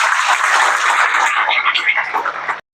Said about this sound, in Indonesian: sekali lagi kita beri tepuk tangan kepada Mirikan PAS